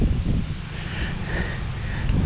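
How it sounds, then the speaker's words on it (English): Steady wind buffets the microphone with a low rumble and a broad hiss, continuous and fairly loud throughout. "Quite windy today."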